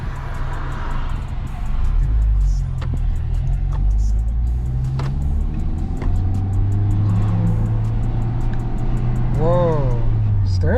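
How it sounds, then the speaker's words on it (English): Honda Civic Type R FK8 driving on a test drive after a wheel alignment, a steady loud engine and road rumble from inside the cabin, with a brief tonal rising whine near the end. "let's go for a little test drive"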